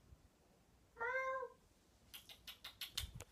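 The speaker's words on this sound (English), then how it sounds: "Yeah, that's my cats." Cats at home: one clear, close meow rising and falling for about half a second, followed by a quick series of soft clicking and tapping noises, all fairly quiet in a calm room.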